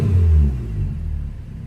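A Porsche Macan with its mufflers deleted and quad tips, heard from inside the cabin, gives a deep, loud rumble that swells briefly and then eases back to a lower drone.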